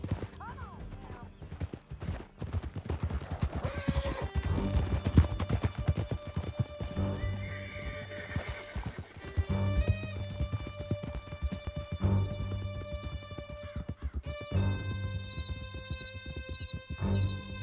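Horse galloping under a rider in Red Dead Redemption 2, steady clip-clop hoofbeats with occasional whinnies over a loud, continuous music score, with voices talking at times.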